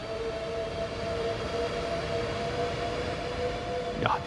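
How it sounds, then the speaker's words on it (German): A Class 395 high-speed electric train accelerating in Train Sim World 3 on the Southeastern High Speed route, a steady rumbling drone with sustained whining tones, loud and continuous, ending in a short rising burst. "dieser Sound, wenn der Zug beschleunigt,"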